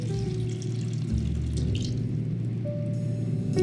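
Water poured into a pot of tomato pasta sauce with chopped tomatoes for a vegan one pot pasta, a close, steady trickling pour with faint drips and no speech.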